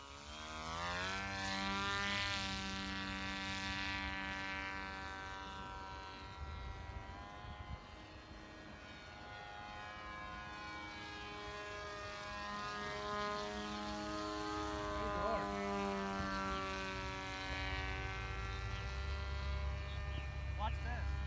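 A radio-controlled model jumbo jet plane in flight, its motor droning with a steady buzzing whine that rises and falls as it passes nearer and farther, continuous throughout.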